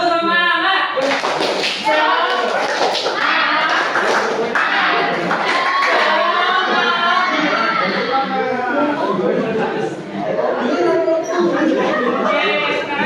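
A classroom of students performs a patterned rhythmic clapping chant, quick bursts of claps mixed with voices chanting together, loud and close throughout.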